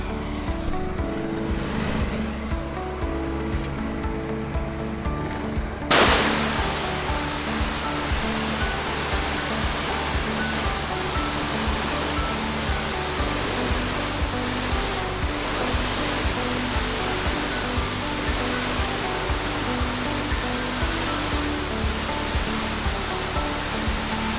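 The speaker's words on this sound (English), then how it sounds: "let me start blowing off some of these leaves." A leaf blower clearing leaves off a paver driveway starts up after a low engine idle and then roars steadily as a loud, broad rushing blast close by.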